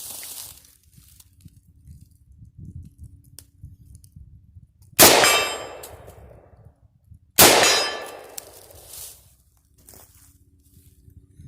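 Two loud metallic clangs of M14 rifle rounds striking a steel target, spaced about two seconds apart, each ringing out and decaying over quiet outdoor background.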